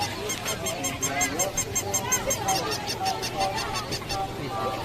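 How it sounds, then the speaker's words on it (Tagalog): Ducks honk repeatedly in a loud, close chorus of nasal calls at a fiesta, with a voice talking in the background. "Ano yun o, itik."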